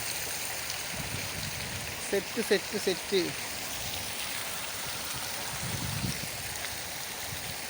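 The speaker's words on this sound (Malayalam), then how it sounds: "അടിപൊളി വെള്ളച്ചാട്ടമാണ്" Steady rushing water from a small waterfall flows nearby as a constant wash of noise, with a few brief chirpy calls and a voice speaking briefly over it.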